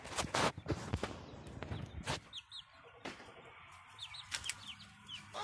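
Chickens and young chicks cluck and cheep in a coop, scattered calls at close to moderate distance over quiet rustling and a few footsteps, with no talk.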